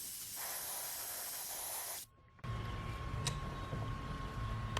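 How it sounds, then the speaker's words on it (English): An airbrush loaded with pearlized silver paint sprays onto a fishing bait held under mesh, giving a steady, faint hiss that cuts off briefly, then resumes with a slightly rougher texture. "I got some pearlized silver in the airbrush"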